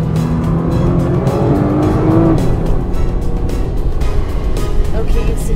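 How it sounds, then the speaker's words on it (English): 2013 Nissan GT-R accelerating hard as its turbocharger kicks in, a loud rising engine note heard from inside the car with people talking over it. "you get to really feel the turbocharger kick in like here"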